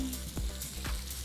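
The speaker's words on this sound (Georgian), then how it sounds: "ხახვი დაიბრაცა." Onion frying in a pan alongside grilled fish, a quiet steady sizzle broken by a few soft rhythmic stirring scrapes, with no speech.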